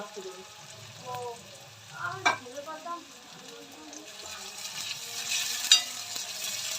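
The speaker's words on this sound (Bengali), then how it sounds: "এই যে পেঁয়াজটা ভেজে নিলাম" Onions fry in oil with a soft sizzle and occasional stirring scrapes, fairly quiet and close, with scattered clinks and a brief burst of hiss near the end.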